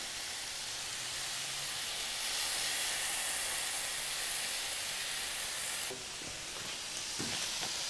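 Pork tenderloin and polenta fry together in a pan with sage, giving a steady, loud hiss and sizzle throughout, with a few soft clinks and shuffles near the end.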